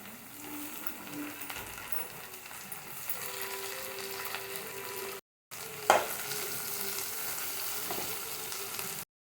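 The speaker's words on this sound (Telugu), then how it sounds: "ఇప్పుడు కొంచెం డీప్ ఫ్రై అయ్యాయి కదండి, ఇప్పుడు టమాటాలు కూడా వేసుకుందాం" Vegetables and tomatoes frying in a pan for a bean and moong dal curry give a continuous close sizzle with intermittent stirring and a sharp clank near the middle, briefly cut by a short silence.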